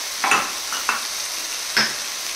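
Ground spices with turmeric sizzling in a pan for a mutton dish, stirred with a few short scraping strokes over a steady low fry, no voices.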